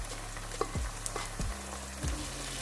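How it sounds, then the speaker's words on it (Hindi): Onions, tomatoes and green chillies frying in a pan for a mixed vegetable curry of potato, peas and carrot, giving a steady close sizzle with a few stirring scrapes and knocks and no talk. "ये देखिए प्याज लाइट ब्राउन हो चुका है। अब हम इसमें टमाटर और सब्ज़ मिर्चें ऐड कर देंगे"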